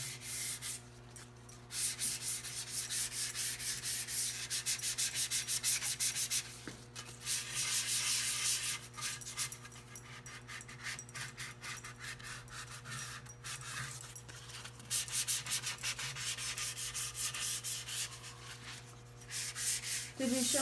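Sandpaper rubs by hand over a varnished wooden half hull of a cat boat model in rhythmic back-and-forth strokes with brief pauses, over a steady low background hum.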